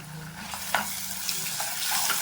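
Onions frying in a pan with ginger-garlic paste just added for a mutton cashew fry, a steady soft sizzle under scraping stirs with a few sharper clinks of the spoon, fairly quiet and close.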